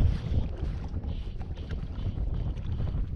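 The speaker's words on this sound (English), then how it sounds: "The wind is quite strong." Strong wind at a stillwater trout lake in winter buffets the microphone in a continuous low roar with gusty surges, loud and close, with no voices.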